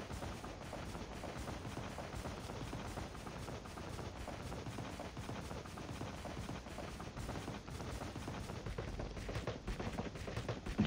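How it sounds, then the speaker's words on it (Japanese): Continuous rapid gunfire in Call of Duty: Mobile, dense bursts of shots with a steady, busy texture throughout, fairly quiet overall. "銃声か。"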